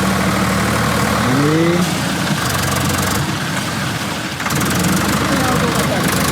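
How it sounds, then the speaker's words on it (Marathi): A Swaraj 744 AC tractor engine idles in a muddy village farm setting, a loud, steady rumble with slight revving throughout while people talk over it. "तो ट्रॅक्टर सुद्धा स्वराज 744 AC वालाच आहे."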